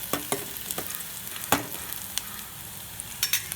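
Onions frying in a pan until reddish for a Malvani mandeli fish curry, a steady close sizzle broken by several sharp scraping stirs of a spoon.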